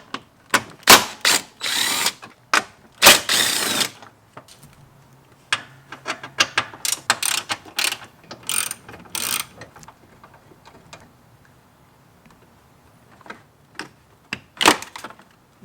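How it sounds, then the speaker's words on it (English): A ratchet wrench loosens bolts on the hood lock of a 2019–2022 Toyota RAV4. Close, loud bursts of rapid clicking come in repeated runs, separated by quieter handling noises and pauses. "you have to remove these 3 bolts"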